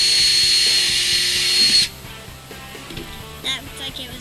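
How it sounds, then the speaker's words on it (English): Power drill boring a small hole while a chicken feeder is being built, a loud, high whine for nearly two seconds that stops abruptly, followed by quieter handling noises. "drill a small hole through"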